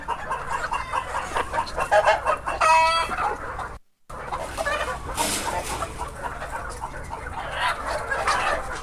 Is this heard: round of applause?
no